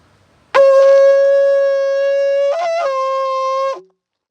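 A shofar sounds a tekiah: one long, loud, steady horn blast of about three seconds that wavers briefly near the end before cutting off, heard alone.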